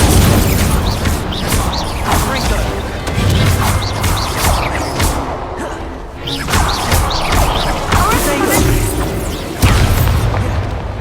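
Spell blasts from Hogwarts Legacy: repeated loud bursts and crashing impacts in a busy, continuous fight, with hits landing every second or so and no clear gap between them.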